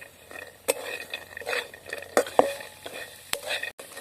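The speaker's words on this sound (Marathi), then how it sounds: "असंच हलवीत राहायचं आहे म्हणजे आपले शेंगा आणि कांदा चांगला भाजला जाईल" Peanuts and onion roasting in a pan for poha, stirred by hand, giving a low sizzle broken by sharp scrapes and clacks of the spoon against the metal at irregular intervals.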